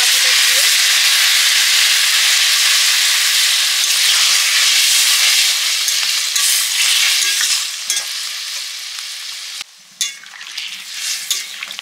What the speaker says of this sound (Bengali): এবারে জলটা দিয়ে দিচ্ছি মশলা বাটিটা দিয়ে।